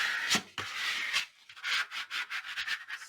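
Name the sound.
burnishing a piece onto an album page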